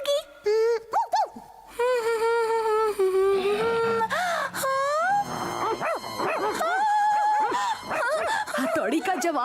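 A cartoon character imitates a dog with howls, whimpers and yips in the Ninja Hattori cartoon, the barking mixed with animated voices talking over much of the scene.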